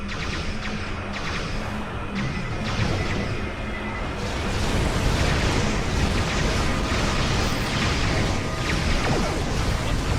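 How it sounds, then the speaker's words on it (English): Starship weapons firing in the Star Trek Online video game, a loud, continuous barrage of booming blasts and rumbling explosions that intensifies in the second half. "Computer, arm all weapons and fire!"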